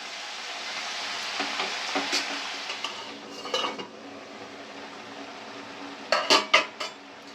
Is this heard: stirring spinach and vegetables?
yes